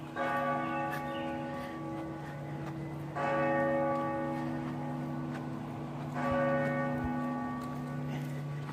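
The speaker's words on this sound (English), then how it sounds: "Hear the bell there." A large bell in downtown Savannah tolls three times at slow, even intervals, each strike ringing out with a long humming decay over steady outdoor background noise.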